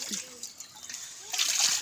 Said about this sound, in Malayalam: ഇവിടെ തുണി കഴുകാണ് മോള്